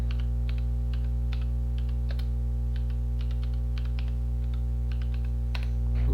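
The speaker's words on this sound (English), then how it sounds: "I'm just typing with one hand, actually, one finger." Someone types slowly on a computer keyboard with a single finger: sparse, uneven clicks over a constant low electrical hum, with no voices.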